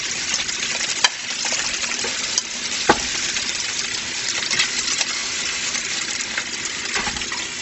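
Veal paupiettes browning in a hot pan give a steady, close sizzle and crackle, with a couple of sharp clicks and no voices.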